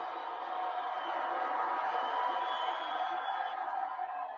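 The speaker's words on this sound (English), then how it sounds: "Now it feels like there are boos for Novak" A steady, dense crowd roar at a Wimbledon men's singles final between Novak Djokovic and Carlos Alcaraz, with spectators booing Djokovic. The noise stays even and sustained throughout, with no clear voice standing out.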